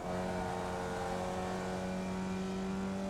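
Race car engines in a racing video game drone at a steady high pitch, a sustained tonal whine held at moderate level with no voices over it.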